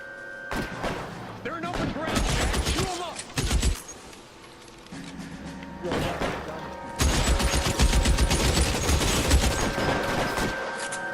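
Gunfire in L.A. Noire: rapid bursts of pistol and machine-gun shots crack in loud, close clusters, pausing briefly before resuming heavier, with shouted voices heard between and over the shooting.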